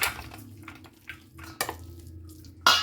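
Coarse chana dal paste being scraped from a grinder jar into a large pot: a few short scrapes and knocks of a spoon against metal, with quiet gaps between them and a sharp clatter at the end.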